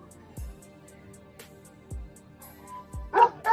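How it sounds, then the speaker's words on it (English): A dog barks three times at a distance, evenly spaced short low thuds over a steady hum, followed by a brief louder bright sound near the end. "These dog barking."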